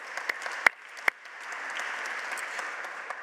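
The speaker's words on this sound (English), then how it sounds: "That applause is for all of you" An audience applauds a conference panel on sustainability and international cooperation, a dense steady patter of many hands with a couple of sharper claps near the front, moderately loud and sustained throughout.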